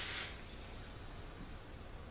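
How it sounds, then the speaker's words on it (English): A single short burst of aerosol hairspray, a quick soft hiss lasting a fraction of a second, followed by quiet room tone. "I'm going to use some hairspray again, same thing. I'm going to lightly spray."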